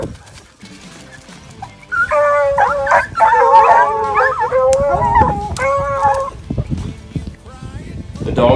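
A pack of hunting dogs on a mountain lion track in the mountains howls and bays together, several voices wavering loudly for a few seconds, then breaking into scattered barks and yips.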